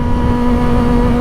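A Kawasaki Ninja ZX-4RR is ridden on a wet, rainy road, its engine droning loudly and steadily at a held pitch under a broad rush of wind and spray, with no voices.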